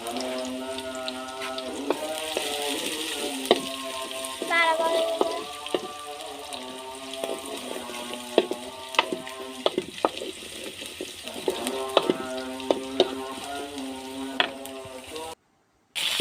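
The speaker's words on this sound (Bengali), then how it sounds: "এরপর পেঁয়াজ কুচি দিয়ে দিয়েছি এগুলো ভাজা হয়ে গেলে শাকগুলো দিয়ে দেব" Chopped onions fry on a clay stove with a continuous sizzle and occasional stirring clatter, mixed with tonal background sounds and clinks throughout, ending in a short silent break.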